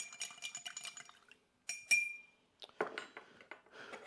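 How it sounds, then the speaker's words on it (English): Spoon stirring a Roosevelt rum cocktail in a glass: a run of quick close clinks, a pause, then more ringing taps and scrapes against the glass, quiet and without talk. "Give us a little stir."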